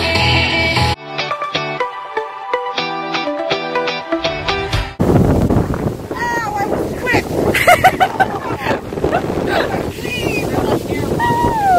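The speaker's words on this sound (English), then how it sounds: "Behind the scenes, it's really windy. Really windy." Strong wind buffets the microphone outdoors behind the scenes at a convention, a loud rumbling roar that takes over after a few seconds of music, with people talking under it.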